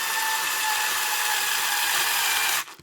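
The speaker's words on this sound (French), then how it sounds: "Mais là je le fais au tournevis électrique." Electric screwdriver driving a screw into a Tamiya TT-02 Lancia Delta Intégrale RC car kit, a steady high whirring motor whine held for over two seconds, then cutting off abruptly.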